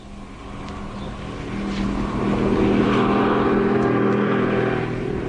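A car in a radio drama rolls up and comes to a stop, a steady engine hum that swells louder and nearer, then settles at idle, with no voices over it.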